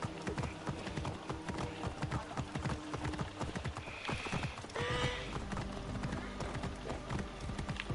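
Horse hooves clip-clop steadily at a running pace in Assassin's Creed Origins, with busy game ambience and an occasional voice behind them.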